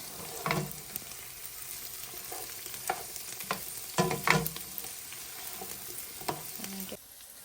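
Chopped garlic sizzling in a hot pan for keto fried cabbage, a soft continuous fry broken by several sharp stirring clatters, fairly quiet and without talk, cutting off near the end.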